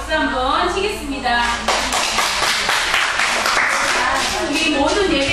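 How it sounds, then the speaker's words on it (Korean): Children at a summer Bible school clap for themselves at the closing session, a short burst of mixed clapping that rises over an adult's voice and continues beneath talking. "스스로 박수 한번 치겠습니다."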